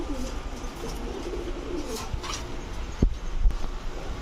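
Female pigeons coo softly and repeatedly nearby, low burbling calls over a steady background hum, with a couple of dull thumps near the end.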